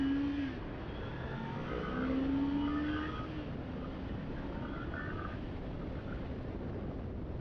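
A 2019 Kawasaki Z400 motorcycle at full throttle, its engine note climbing in a brief rising surge before settling into a steady, fairly loud drone, with no talking.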